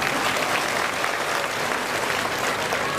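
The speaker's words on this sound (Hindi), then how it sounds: "अच्छी नज़्म थी, इसके लिए आप अच्छी ताली बजा सकते हैं।" An audience at a mushaira applauds after a poem: dense, steady clapping from a large crowd, sustained throughout without pause.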